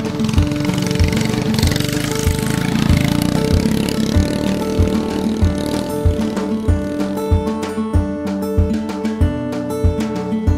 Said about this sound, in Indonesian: Dan motor mau lewat.